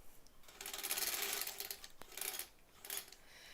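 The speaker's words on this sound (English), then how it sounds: "Do that little back tack again so it doesn't unravel on us." A sewing machine runs in short quiet bursts as it stitches a back tack on foundation paper piecing, a soft mechanical whir that stops and restarts, with no voices.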